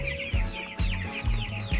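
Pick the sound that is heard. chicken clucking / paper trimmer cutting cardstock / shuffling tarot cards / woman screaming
chicken clucking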